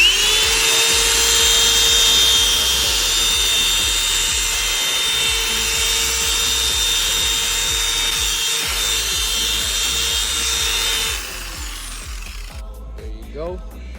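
A drill-driven brush scrubs a stained car seat, grinding steadily and loudly for about eleven seconds before stopping, with a few quieter scrapes and handling sounds afterward.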